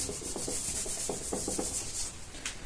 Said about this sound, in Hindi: ये वाला को थोड़ा सा मिटा देते हैं क्योंकि हमारे पास थोड़ा जगह कम है